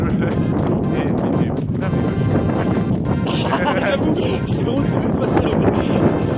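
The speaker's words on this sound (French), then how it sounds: "Oh le vent." Wind rushes and buffets the microphone throughout, loud and continuous, with people talking over it.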